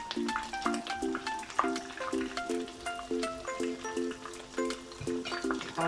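Swordfish frying in oil in a pan with garlic, a steady soft sizzle broken by repeated scraping and stirring taps from a utensil, close and fairly quiet.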